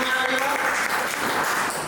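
Audience clapping at a business plan presentation, a dense, loud and continuous wash of applause filling the whole moment without breaks.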